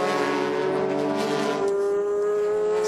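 A GT race car's engine whines loudly past at the Motegi circuit during a 2006 Super GT 300 km race, its steady high-pitched note dropping in pitch as it goes by.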